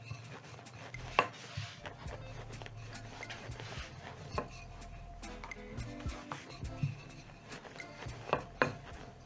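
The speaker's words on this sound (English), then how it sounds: "you'll roll out the dough in a thin sheet" Mandazi dough being rolled out into a thin sheet, with repeated soft knocks and taps of the rolling pin against the board, fairly close and quiet, with low rumbling rolling noise between the knocks.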